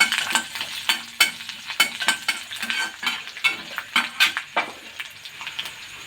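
Garlic and ginger frying in a pan, a light sizzle beneath rapid, repeated scraping taps of a spatula stirring in an uneven rhythm.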